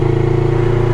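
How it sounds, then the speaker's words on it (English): A motorcycle engine runs close by at a steady, loud rev for a moment, its even throbbing hum holding without a break. "Rev it up and watch it."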